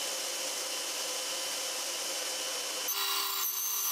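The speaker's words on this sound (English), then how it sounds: "I cut several plywood discs on the bandsaw" A bandsaw slicing through plywood to cut discs gives a steady, close hissing rasp that runs without pause, changing tone briefly near the end as the cut shifts.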